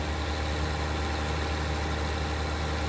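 A tractor engine idles in Farming Simulator 19, giving a steady, low, even drone that holds without change for the whole stretch, with no talking over it.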